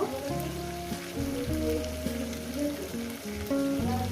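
Vegetables for a poppy-seed curry sizzle and fry in a pan, a steady crackling hiss throughout with a faint music-like tonal background.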